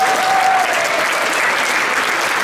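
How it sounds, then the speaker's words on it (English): Big round of applause from a high school pops and jazz show audience, honoring the show's choreographer; dense, steady clapping fills the room at full strength throughout. "Let's give a big round of applause"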